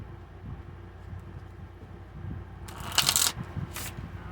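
After a quiet stretch, a deck of tarot cards is shuffled in a few quick, crisp riffling bursts close by.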